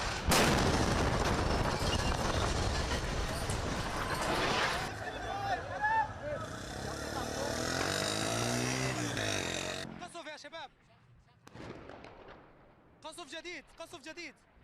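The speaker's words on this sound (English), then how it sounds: "A little video I'm going to share with you of the bombing of Damascus." Bombing of Damascus: heavy blasts and a rolling, rumbling roar fill the first seconds, then the din drops away to sparse urgent voices shouting amid quieter background noise.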